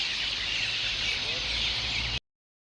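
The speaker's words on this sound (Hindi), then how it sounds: "बहुत बड़ी तादाद में इसके ऊपर परिंदे जो हैं चहचहा रहे हैं" A large flock of birds chirps at dusk above a long grave at a shrine, forming a dense, bright chatter that runs steadily at moderate volume before cutting off abruptly.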